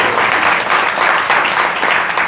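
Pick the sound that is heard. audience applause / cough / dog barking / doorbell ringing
audience applause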